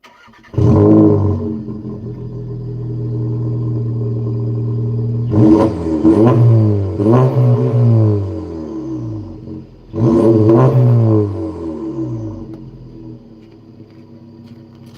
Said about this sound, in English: I'll set you up for an exhaust note first.